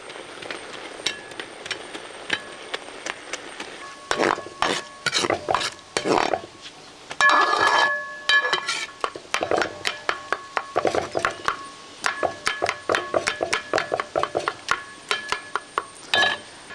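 A ladle's back mashes cooked sweet pachadi for an Onam feast in a pot, giving repeated sharp metallic knocks and scraping strokes that speed up into a quick irregular rhythm, close and clear without talk.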